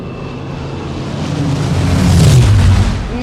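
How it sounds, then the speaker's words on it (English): A deep, roaring Rolls-Royce Merlin aircraft engine rumble swells and peaks as it passes close overhead, then begins to fade, with no talking. "Rolls-Royce Merlin engines. Sweetest sound you could hear out here."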